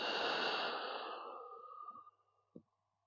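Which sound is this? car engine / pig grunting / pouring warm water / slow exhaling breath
slow exhaling breath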